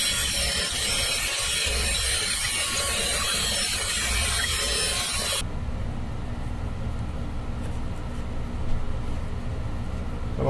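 A power drill enlarges a screw hole in a guitar pickguard for an EMG SL20 loaded pickguard install, a steady loud whirring grind for about five seconds before dropping to a quieter, lower hum.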